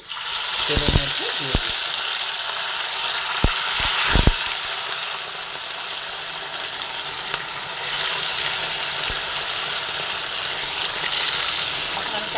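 Bata fish frying in hot oil in a karahi, a steady broad sizzle running throughout with a few sharp clicks and spatters near the start, fairly loud and close, no talk.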